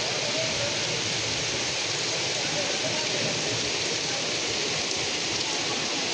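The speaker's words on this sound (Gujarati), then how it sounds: "વરસાદ ભાઈ ફૂલ આવે છે" Heavy rain pours steadily onto a surface in a dense, unbroken hiss that stays loud and even throughout, with no voices standing out above it.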